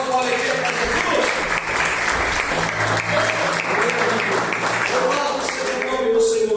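A church congregation bursts into joyful, sustained applause, many hands clapping together in a dense, steady roar that fills the room for several seconds, with scattered voices mixed in underneath.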